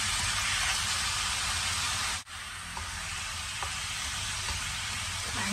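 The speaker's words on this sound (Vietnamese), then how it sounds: "mình sẽ cho cái phần thịt mình ướp vào đây, các bạn sẽ xào lên cho nó săn lại" Marinated pork for braised pork with quail eggs stir-frying in a pan, a steady close hiss and sizzle throughout with a brief dip midway and faint clinks of stirring.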